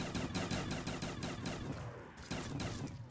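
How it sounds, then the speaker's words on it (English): Black Ops 3 custom Zombies shotgun fire comes in a rapid run of sharp, closely spaced blasts, a brief pause, then another burst, loud and dense with no voices. "Try these shotguns."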